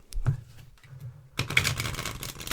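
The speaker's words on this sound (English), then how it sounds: "let's give the cards a riffle shuffle" A deck of playing cards given a riffle shuffle: a few soft taps and handling noises, then a dense, crisp fluttering burst of riffling cards, close and quiet with no talking.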